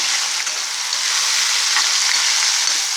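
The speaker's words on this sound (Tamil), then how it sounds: "சால்ட்டில் கொஞ்சம் சால்ட் போட்டு கிண்டி" Brinjal and dried fish fry with salt in a hot pan, a loud, dense, even hiss of oil sizzling close by, with faint stirring scrapes underneath and no talking.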